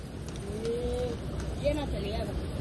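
A pigeon coos softly a couple of times, low throaty calls over faint background rumble.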